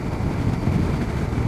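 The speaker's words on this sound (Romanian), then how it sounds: "vântul bate foarte tare" Strong headwind roars steadily against the microphone while riding a CF Moto 800MT Explore motorcycle in fifth gear at about 75–85 km/h, a loud, continuous low buffeting rumble with no talk.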